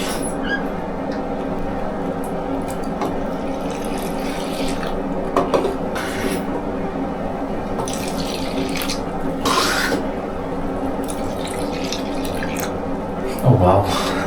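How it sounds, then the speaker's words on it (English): Tap water runs steadily into a sink while rinsing developed photographic film with wetting agent at home, a continuous near splash with a few clinks and squeaks over it. "I'm going to thin out the wetting agent with this and just keep filling up the water"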